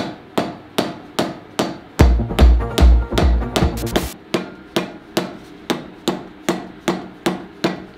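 Steel being tapped with the edge of a tool during emery work, giving sharp, regular metallic knocks at a steady beat of about two per second. A brief burst of heavier, rapid rattling blows interrupts the pattern midway.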